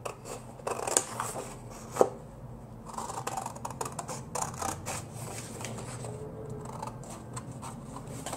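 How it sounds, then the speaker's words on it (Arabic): Scissors snip through paper for a pop-up card, with a series of crisp, close cuts and rustling sheets, steady and continuous with no talking. "همسك المقص، ما انتش قادره تستخدمي المقص تستخدمي المشرط"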